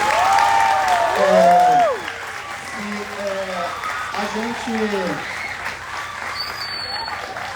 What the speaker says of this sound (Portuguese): eu queria pedir uma salva de palmas para vocês, professores